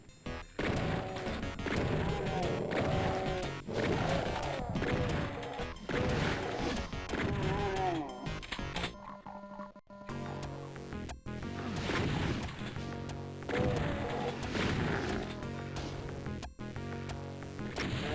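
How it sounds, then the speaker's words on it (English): A barrel explodes in DOOM (1993), a loud crashing blast amid dense, continuous game sound and music, with a brief drop to near-silence midway before the din resumes. "destroying the barrel so there's no obstacles in our way"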